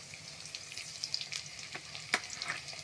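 Onion paste with chopped onion, cinnamon, cardamom and bay leaves sautéing in hot oil for chicken curry: a faint, crackling sizzle with occasional light spatula clicks, no speech.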